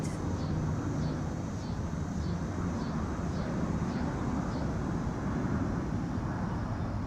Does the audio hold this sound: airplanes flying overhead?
yes